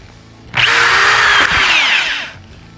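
A cordless hammer drill rated up to 2100 RPM spins up sharply, whines at high speed for nearly two seconds with a brief dip, then winds down. No talking.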